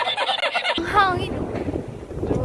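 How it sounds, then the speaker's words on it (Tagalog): Wind rushes and buffets the microphone in a steady low roar, with people talking over it. "Ang hangin."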